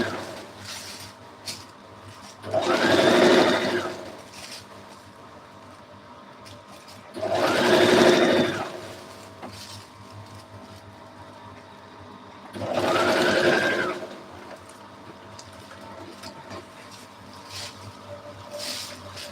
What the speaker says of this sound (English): We are going to sew here as well.